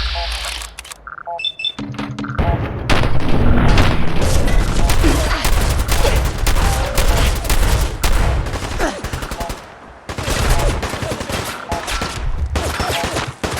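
Combat shotgun gunfire in Fallout 4, with rapid loud blasts repeating almost continuously, a brief pause near the end, then more shots.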